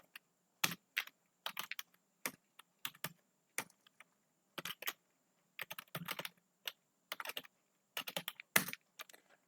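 Python code being typed on a computer keyboard: bursts of close, crisp key clicks in irregular clusters separated by short pauses, with no talking.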